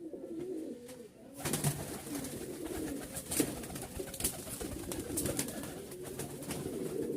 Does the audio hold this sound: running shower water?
no